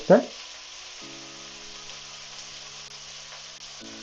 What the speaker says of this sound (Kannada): ಹಾಗೆ ಇದಕ್ಕೆ ಸ್ವಲ್ಪ ಸೋಂಪನ್ನು ಹಾಕ್ಕೊತಿದ್ದೀನಿ ಒಂದು ಅರ್ಧ ಚಮಚ